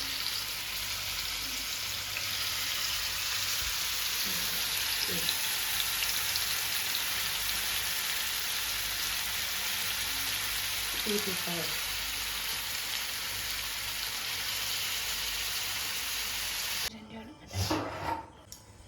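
Chicken pieces frying in coconut oil in a pan give a steady broadband sizzle that runs the whole length, with a few faint clinks of utensils and a louder stir near the end.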